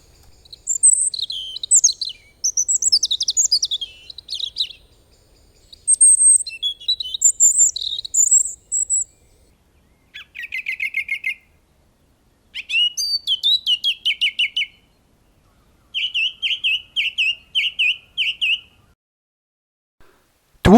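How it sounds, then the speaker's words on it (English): Garden birds singing in the New Forest in late winter: bright, high chirping and trilling phrases repeated in short bursts with brief pauses, close and clear with no other sounds. "Some of the birds thought spring had arrived and started to sing."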